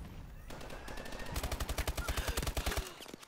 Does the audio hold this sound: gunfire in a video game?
yes